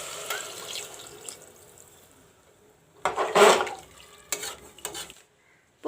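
Water is added to a pot of pea curry while cooking, a few short splashing pours with quiet gaps between them, close and fairly loud, with no talking.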